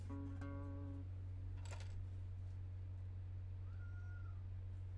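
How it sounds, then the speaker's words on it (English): A cat gives a short, faint yowl in a quiet room over a constant low electrical hum, followed by a sharp metallic clink and later a thin, high drawn-out cry. "You guys may hear my cat yowling."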